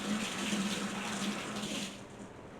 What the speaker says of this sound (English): I will rinse them and then I will chop them